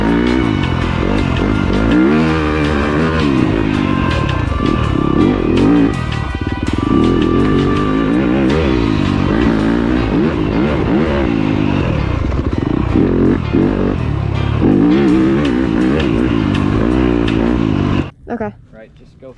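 Loud, continuous motorcycle engine roar on the Croom Mo race track as the bike accelerates through a berm, with wind buffeting and a voice talking over it, cutting off abruptly near the end.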